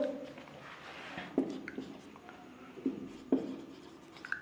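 A pen scratches across paper while chemistry notes on carboxylic acid acidity are written, a soft, uneven scribbling with a few sharper taps, close and quiet, with a voice heard faintly.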